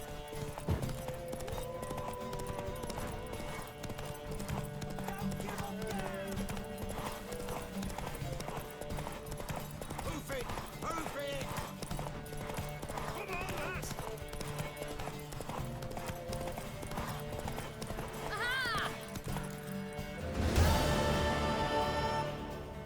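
Rhythmic hoofbeats of a mare in The Witcher 3: Wild Hunt clip-clop steadily over background music, and near the end the horse whinnies loudly before the sound swells.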